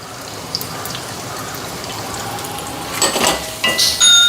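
Onion, garlic and ginger sauté in an oily kadai for a mushroom dish, giving a steady close hiss and sizzle with louder crackling bursts near the end.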